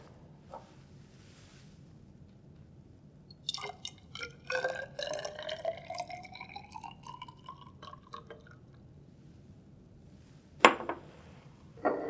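Hydrochloric acid poured from a graduated cylinder into a glass Erlenmeyer flask, a short trickling pour with a rising ringing tone, then a clink of glass, close and quiet in an otherwise still room.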